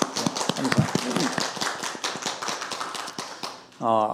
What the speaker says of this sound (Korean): 우리 하나님께 감사 영광의 박수 한번 올려드릴까.